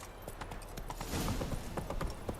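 Geralt's horse Roach trotting in The Witcher 3, a steady, fairly close clip-clop of hooves with no other sounds over it.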